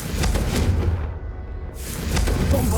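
Confringo fire-blast spell explosions in Hogwarts Legacy, a steady roaring, crackling blast with heavy low rumble that briefly thins midway before surging back loud.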